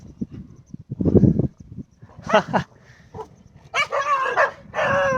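A pack of dogs surrounding another dog erupts in loud, close barking and yelping, with bursts of sharp barks and whimpers coming in uneven clusters.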